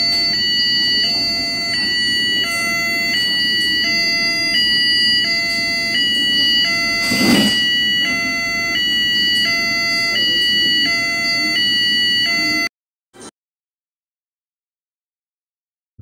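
A steady electronic warning siren sounds loudly and continuously, with a repeating stepped tone pattern for about twelve seconds before cutting off abruptly into silence.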